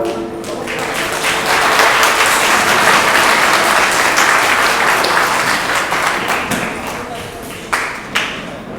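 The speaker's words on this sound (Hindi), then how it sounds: "आपकी तालियां इन कलाकारों की हौसला अफजाई के लिए जरूरी थी" Loud audience applause after a theatre play about Rani Lakshmibai, a dense burst of many hands clapping that rises quickly, sustains strongly, then thins out with a few scattered late claps near the end.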